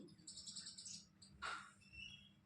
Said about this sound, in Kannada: ನೋಡ್ರಿ ಇಲ್ಲಿ ಗುಬ್ಬಚ್ಚಿ ಸೌಂಡ್ ಹೆಂಗೆ ಕೇಳಿಸತೈತಿ